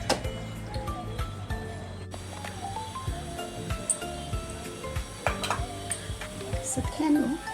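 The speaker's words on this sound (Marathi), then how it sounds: "आता आपण हे चांगलं मिक्स करून घेऊयात आणि त्याचे कटलेट बनवूया." Chicken keema cutlet mixture is stirred and mashed by hand in a bowl, giving soft irregular squishing and scraping with occasional utensil clinks, fairly close and moderate in level.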